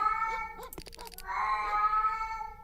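A cat gives a couple of drawn-out, wavering meows, loud and close, with a brief clatter between them and no talk.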